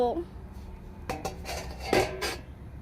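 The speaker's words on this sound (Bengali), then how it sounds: "এবারে ঢাকা দিয়ে দেব।" A lid set onto a cooking pot of potato curry, a few light metallic clinks and knocks with a short scraping rattle, close and fairly quiet, with brief speech at the start.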